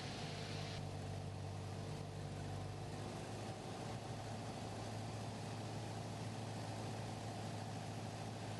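Steady, continuous drone of a Piper Cherokee light aircraft engine held at 1,500 RPM, heard from inside the cockpit, loud and unbroken throughout with no talk.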